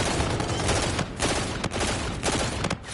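Loud, rapid gunfire from a G-Rail weapon in a shooter video game, sustained bursts with brief gaps, close and dense throughout.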